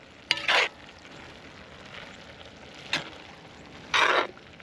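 A pot of beans and stewed tomatoes cooking: three separate bursts of sizzling or stirring noise over a quiet, steady background simmer, with no voices.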